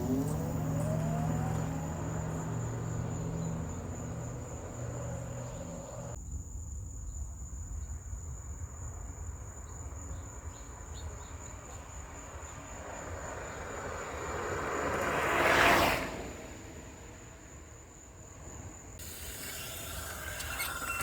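NANROBOT RS7 electric scooter ridden in mode 2 with both motors driving, a steady motor whine and wind roar throughout, swelling briefly in a louder gust midway.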